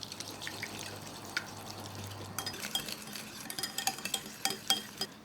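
Butter and melted coconut oil get stirred together in a bowl, producing soft wet squelching and a scattering of light clinks from a utensil against the bowl, quiet and close.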